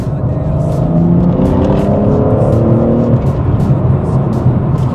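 BMW G80 M3 Competition accelerating hard in sport mode on an open road, a loud steady engine roar rising in pitch through the gears, heard from inside the car with no talking.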